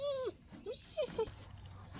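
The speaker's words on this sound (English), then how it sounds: "There's the little puppy." A little puppy at a homestead whimpers in a few short, high, wavering whines separated by brief pauses, fairly close, over a low background rumble.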